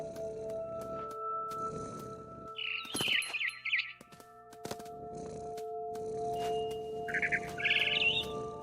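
Birds chirp high in a big tree in the video game What Remains of Edith Finch, with two short bursts of twittering, around three seconds and near the end, over a steady low ambient hum.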